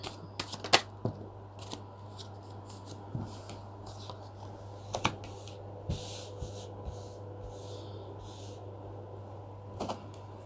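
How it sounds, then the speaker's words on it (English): Tarot cards being shuffled and pulled from a deck, soft close riffles and sharp slips in scattered bursts over a low steady hum, quiet with no talk. "pull a couple cards, pull a few cards and see what we've got"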